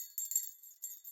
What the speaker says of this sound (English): The bell originally sounds like this.